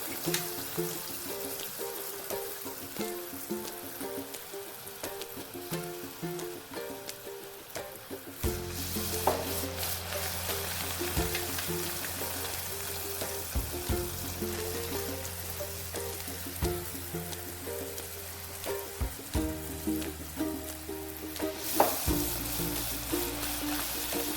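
Achappam batter on a mould sizzles steadily in hot oil, a continuous crackling fry. Soft clinks and taps recur throughout, and a deeper bubbling layer joins partway through.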